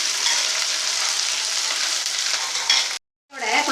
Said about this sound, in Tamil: நல்லா எண்ணெயிலேயே கொஞ்சம் நேரம் காய்கறி வந்து நல்லா வதங்கட்டும்